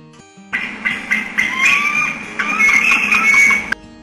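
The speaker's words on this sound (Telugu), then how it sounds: "duck" A duck quacks in a few loud, raspy bursts over about three seconds, close and alone against a quiet background.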